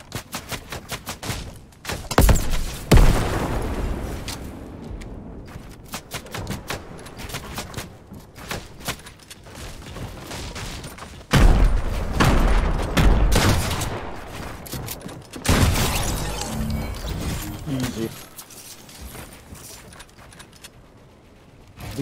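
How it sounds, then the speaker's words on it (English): Fortnite battle royale gunfire crackles in repeated bursts of sharp shots and thuds with gaps between volleys, some close and loud, others quieter, with no talk. "Be careful, bro. These snipers ain't messing around."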